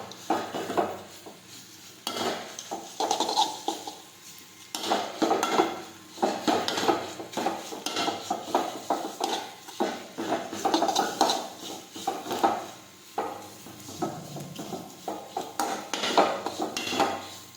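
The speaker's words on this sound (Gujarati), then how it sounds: "હવે આપણે બધા મસાલા છે તે મિક્સ કરી દઈશું" Spices being mixed in a pan while cooking a roti snack, with repeated clattering scrapes of a spoon against the metal pan, steady and close, no talking.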